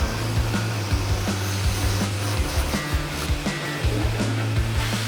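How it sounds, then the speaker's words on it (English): A grinder fitted with a wire brush strips old adhesive off the interior walls of a boat, giving a loud, constant abrasive roar with rhythmic low thumps as it works, and no speech. "go at it with a grinder and a wire brush to rip it all off"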